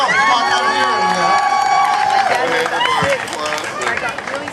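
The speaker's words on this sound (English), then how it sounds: "Round of applause." Audience at a hemp fashion show at a festival applauds and cheers, a loud crowd roar with whoops and high shouts and some clapping, fading slightly toward the end.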